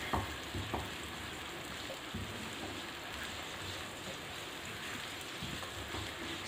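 Finely chopped onions, about half a cup, fry in three tablespoons of oil in a pan, giving a steady, dense sizzle and crackle throughout with no voices.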